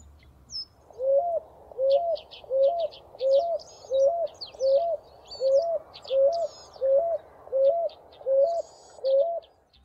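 Brazilian doves and pigeons call in a steady series of about a dozen evenly spaced, mellow coos, each roughly a second apart, with fainter higher chirps from other birds scattered above and a low background rumble.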